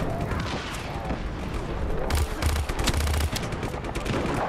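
Handgun fire aimed at tanks in Just Cause 3: rapid volleys of shots crackle over a rumbling battle backdrop, growing denser and louder in the second half.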